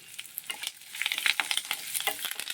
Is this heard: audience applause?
no